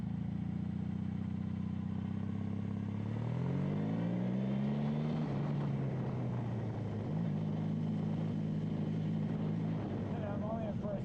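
A 2000 Honda Magna 750 motorcycle revving up in first gear, its engine note climbing in pitch then settling into a steady, loud drone close by.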